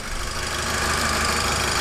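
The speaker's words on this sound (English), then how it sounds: "Yeah, that engine sounds so much better." A freshly repaired car engine runs steadily at a loud, close idle with a rough, even mechanical drone and no voices.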